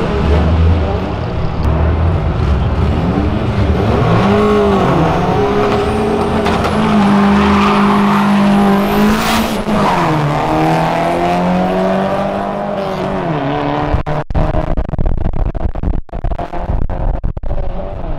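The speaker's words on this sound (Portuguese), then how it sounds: "Vocês vão assistir agora um Corsa com motor de Vectra" Chevrolet Corsa fitted with a Vectra engine, 1.8 turbo, racing: a loud, close engine roars and revs up through rising and falling pitch, holding a strained high note before dropping off, with crackles and pops at the end.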